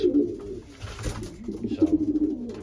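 Young racing pigeons coo in a loft, a soft low murmuring run of calls close by that swells into a rhythmic pulsing burst near the end.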